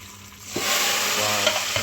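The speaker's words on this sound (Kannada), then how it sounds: "ಈ ಒಗ್ಗರಣೆಯನ್ನು ನಾವು ಅದರಲ್ಲಿ ಮಿಕ್ಸ್ ಮಾಡಬೇಕು. ನಾವು ಅದರಲ್ಲಿ ಹಾಕ್ತಾಯಿದ್ದೀವಿ." Hot tempering hits a North Karnataka style sabji, the pan erupting from quiet into a loud, close sizzle that keeps hissing with a few stirring knocks.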